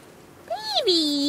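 A pet cat gives one short rising-and-falling meow, close and fairly faint, with no other sound around it.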